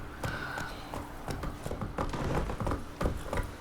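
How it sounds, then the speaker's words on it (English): Game horse trotting in The Witcher 3: Wild Hunt, a steady run of hoof clip-clops over a continuous ambient bed, moderately close, with no voices. "And even when I'm using the horse, I'm only trotting."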